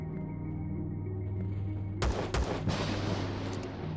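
Sentry gun opening fire in the video game Empyrion Galactic Survival, a burst of sharp shots cracking in at mid-clip over a steady humming game ambience, then continuing as a dense rattle of gunfire.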